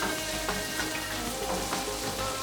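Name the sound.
bell peppers and ginger frying in a pan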